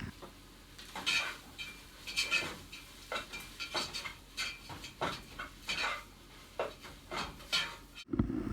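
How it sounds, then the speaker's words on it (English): A spatula scrapes and taps in a frying pan as eggs are folded and stirred, a series of irregular clinks and scraping strokes over a quiet background, ending with a sudden louder clatter. "I'm going to fold it up and start mixing it up to get that to cook down even more on the bottom of the pan"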